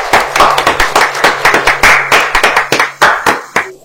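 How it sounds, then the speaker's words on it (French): A small group claps in celebration at the end of a quiz competition, sharp distinct claps in a quick, uneven rhythm, loud and close, with no clear cheering. "Est-ce que nous pouvons célébrer pour nous-mêmes avec acclamation?"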